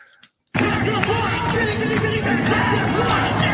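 Grown men cheer on a baby: a loud crowd roar bursts in after a short silence and carries on steadily as sustained cheering and babble.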